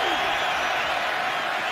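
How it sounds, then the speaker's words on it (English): A football stadium crowd at a Carolina Panthers at Detroit Lions game roars for the Lions, a dense, sustained wash of cheering that stays loud and even throughout, heard from within the stands. "Crowd certainly has been revved up with the Lions coming back in this game."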